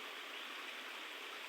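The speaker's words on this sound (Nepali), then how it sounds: "आज फेरि 2 दिन पछाडि पानी लगाउँदैछौँ" Irrigation water flows steadily across a grass field, an even, continuous rushing wash heard quietly and alone.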